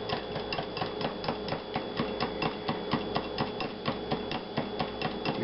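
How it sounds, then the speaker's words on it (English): A hand whisk beats pecan chocolate chip pie filling in a bowl, a fast, steady rhythm of clicking taps against the sides, close and moderately quiet, with no voices. "I'll resort to something that I know that does work, and that's a whisk and do it by hand"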